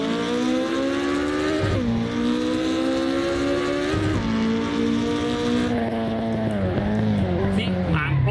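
American muscle car engine in the Assetto Corsa racing game, loud and sustained with a steady droning tone that dips as revs drop around shift points, then climbs again, with slight tire noise and faint speech underneath.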